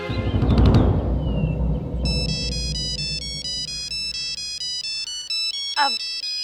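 A phone ringtone plays as a steady repeating electronic melody, loud and clear, following a stretch of louder background sound; a brief chirp cuts in near the end.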